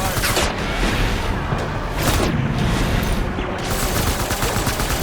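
Dense, loud gunfire fills the moment in Death Stranding, with continuous rapid bursts and heavy booming impacts blending into a sustained roar of battle.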